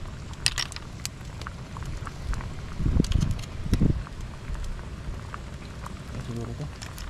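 A pot of water reaches a boil outdoors on a windy day, its lid on, sending out a steady low bubbling hiss with a few louder gurgling surges midway, while sharp ticks and faint background noise come and go.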